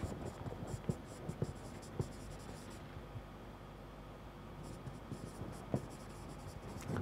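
Pen or chalk scratching out a numerical difference table for interpolation, with soft irregular strokes and taps close by over a low room hiss, no talking.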